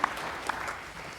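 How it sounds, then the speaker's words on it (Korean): A church congregation applauds during a Sunday worship service in Korea, a brief, moderately loud wash of clapping that continues steadily through the moment. "영광의 박수를 하나님께 드리겠습니다."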